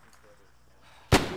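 A single sharp gunshot in a WW2 combat game, loud and close, cutting through a quiet stretch of low ambience right at the end.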